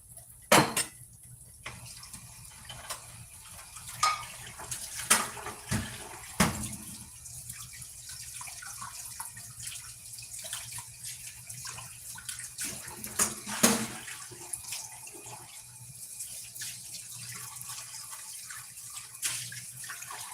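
A bowl being rinsed under a running kitchen tap, with water splashing and trickling and occasional clinks and knocks of dishes, fairly faint and intermittent.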